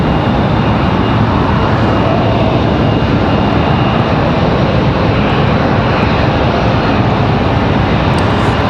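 American Eagle regional jets, an E-175 and a CRJ, shuffle positions on the ground at Raleigh-Durham, giving off a steady, loud wash of idling jet engine noise without any talk.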